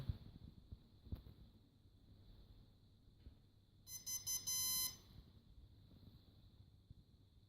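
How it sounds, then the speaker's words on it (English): A short series of high electronic beeps from a 3-axis gimbal controller initializing sounds once against a quiet hum, then stops. "that beep means it has initialized."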